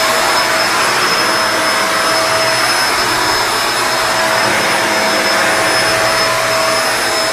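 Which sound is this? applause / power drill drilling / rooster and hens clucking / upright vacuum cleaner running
upright vacuum cleaner running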